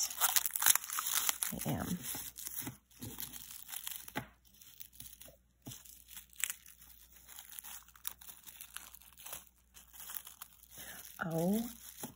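Plastic saran wrap crinkles and tears in short bursts while unboxing a jewelry haul, with someone talking over much of the clip.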